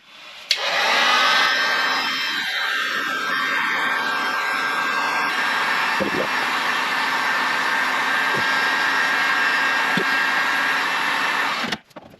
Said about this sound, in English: I've got a hot air gun and see if we can get the same result